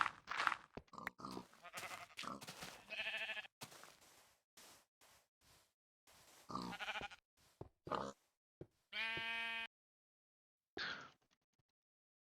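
Blocky video-game sheep in an early alpha version of Minecraft bleat in several separate, close calls, mixed with short crunchy clicks and footstep-like sounds and broken by brief silences.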